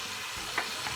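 Chopped vegetables being stir-fried in a pressure cooker for veg pulao give a faint, steady sizzle, with a couple of soft stirring scrapes and no voices.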